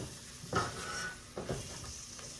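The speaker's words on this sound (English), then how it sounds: "we're just going to stir that right in with the onion" All-purpose flour stirred into sizzling onions for a mac and cheese base, a soft, quiet sizzle with two brief spoon scrapes, no speech.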